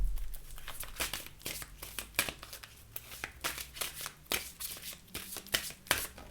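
Oracle cards being shuffled by hand, a close, crisp run of riffling and flicking bursts in an irregular rhythm, with no talking.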